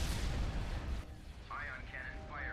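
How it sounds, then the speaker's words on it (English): An ion cannon fires during a Star Wars space battle in a strategy video game, a loud rumbling blast that fades over about a second. Warbling electronic tones and game noise follow. "Ion cannon firing."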